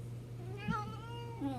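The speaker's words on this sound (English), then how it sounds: "today we are going to be hanging out with my little kitty, Dorit." A small pet cat gives a short meow and then a second rising mew, close and soft, over a low steady electrical hum.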